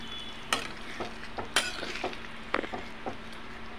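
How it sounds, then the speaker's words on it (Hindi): Potato curry frying in a pan as garam masala is stirred in: a soft sizzle under repeated spoon scrapes and clinks against the pan, close and alone without talk. "अब इसमें हम थोड़ा सा गरम मसाला डालेंगे, इसको भी अच्छे से हम मिला लेंगे मसाले को।"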